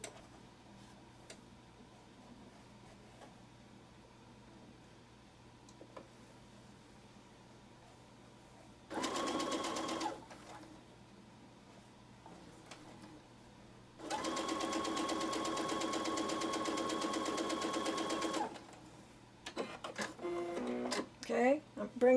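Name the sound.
sewing machine stitching a Dresden Plate quilt block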